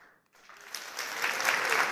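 Keynote audience applause swelling from near silence into a steady, full wash of clapping that builds and holds.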